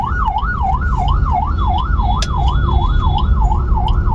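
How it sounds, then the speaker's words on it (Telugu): Wailing ambulance siren in busy Hyderabad city traffic, a steady rapid up-and-down yelp cycling continuously and loud over a dense rumble of engines and road noise. "ఇంకా అంబులెన్స్ వస్తున్నట్టుంది, సైడ్ ఇస్తాం."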